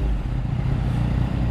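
A Yamaha motorcycle being ridden, its engine giving a steady, loud, low rumble that continues without a break.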